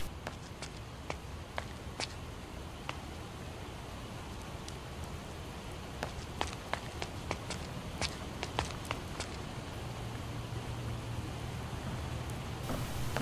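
Steady rain falls in the video game Project Zomboid, a soft continuous hiss scattered with sharp individual drop ticks and taps, fairly quiet and heard alone with no voices.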